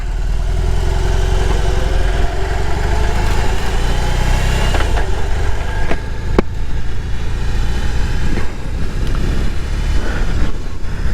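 A BMW R18 boxer motorcycle engine runs loud and close, with a deep, steady rumbling throb and a few sharper mechanical knocks as it idles and is revved lightly.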